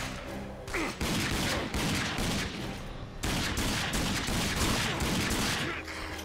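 Sustained bursts of automatic gunfire from the shooter game Rage, dense and loud throughout with a brief break near the one-second mark and again around three seconds.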